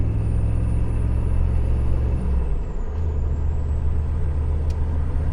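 Close, loud rumble from a 6.5 Detroit Diesel fitted with a Holset HX35 turbo held at wide open throttle, a steady heavy drone with a faint high turbo whine that dips briefly midway.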